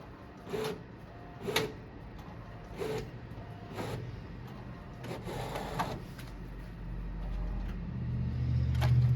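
An Epson SureColor T2170 large-format inkjet printer hums quietly while printing on watercolor paper, short mechanical clunks and whirs repeating at irregular intervals, then a low motor drone gradually swells toward the end.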